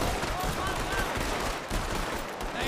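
A dense, continuous barrage of gunfire sounds as guns are shot into the air in a roleplay video game, loud and unbroken for the whole stretch.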